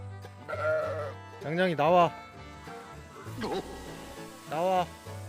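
A goat bleats repeatedly nearby at a wooden house building site, loud wavering calls spaced across a few seconds, with someone speaking between the bleats.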